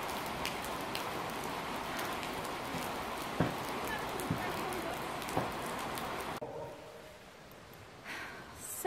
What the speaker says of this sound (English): Tired of this rain, like really, really,